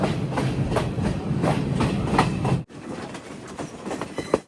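The Podi Menike Express rolls along the line from Kandy to Ella, its wheels clacking in a steady rhythm over rail joints, fairly close and continuous, with a sudden drop to a quieter, more distant rumble partway through.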